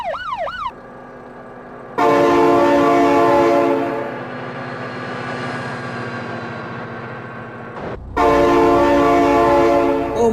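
A loud train horn blares in long sustained blasts as a train passes in the BeamNG driving game, with a brief drop in the middle before the horn returns at full strength.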